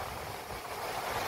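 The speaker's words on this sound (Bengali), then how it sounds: "আর নিচে উত্তাল ঢেউ।" Rough ocean waves breaking at night along the Puducherry shore, a steady, broad wash of surf with wind noise, continuous and fairly loud throughout with no voices.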